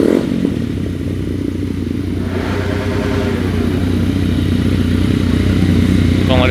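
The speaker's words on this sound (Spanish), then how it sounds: "Cada quien pues en sus motocicletas, miren." A group of motorcycles riding together in El Salvador, with a steady, loud rumble of several engines and some clattering road noise throughout. No one speaks.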